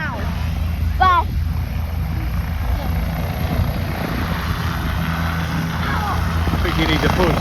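A helicopter takes off close by, its engine and rotor thumping steadily under wind buffeting the microphone, with a brief rising whine near the start.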